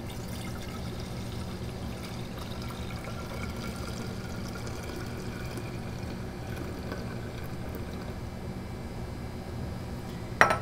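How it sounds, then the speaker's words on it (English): LB broth pours from a container into an autoclaved one liter glass flask in a lab, a steady soft liquid stream for several seconds ending in a brief clink of glass. "Add our LB to the flask."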